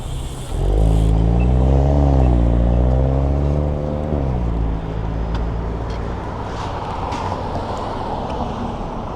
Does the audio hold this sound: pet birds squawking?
no